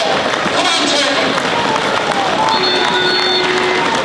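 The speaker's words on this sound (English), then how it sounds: "Get behind these boys today and give the volunteers a big round of applause." A football crowd at an AFC Telford United match against Alfreton Town, a dense, continuous wash of applause and crowd noise filling the whole stretch at close range.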